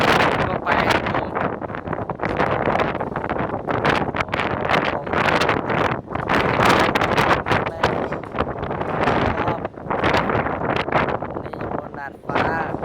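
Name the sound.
strong wind of Typhoon Maysak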